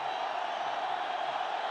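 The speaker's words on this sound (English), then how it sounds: "Well, the crowd's gone wild." A cricket stadium crowd roars in a sustained, dense wall of cheering during a night T20 international, loud and unbroken throughout with no distinct individual voices.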